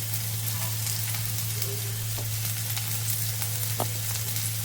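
Beans, carrots, capsicum and corn fry in a pan for hakka noodles, a continuous close sizzle with scattered small crackles and pops over a steady low hum, and no talking.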